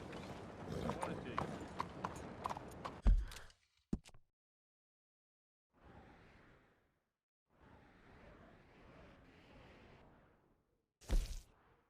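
A horse in the Red Dead Redemption 2 video game clip-clops along at a quick pace under a voice, then the hoofbeats drop away, leaving a gap and a few short, softer bursts of game sound.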